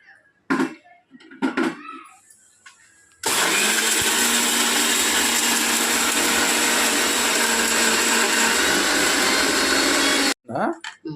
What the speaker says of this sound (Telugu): ఈ మసాలా మనం రెడీ చేస్తాం కదా ఇది మిక్సీ పట్టేస్తాను